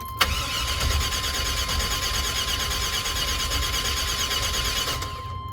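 A car engine cranks steadily for about five seconds without firing, a loud, continuous churning that stops abruptly, done to prime a newly rebuilt transmission.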